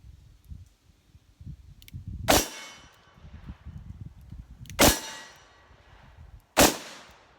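Three loud, sharp shots from a Smith & Wesson 686+ 3-inch revolver fired double action at an outdoor range, spaced a couple of seconds apart, with faint handling noises between them.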